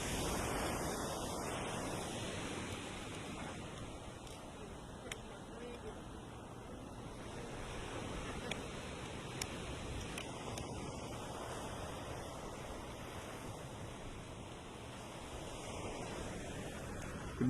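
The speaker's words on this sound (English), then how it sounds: "I wanted to go ahead and keep the recording going and let you listen to the waves." Ocean waves breaking on a renourished beach in the morning, heard as a steady, broad wash of surf that swells and recedes continuously throughout, with some wind noise on the microphone.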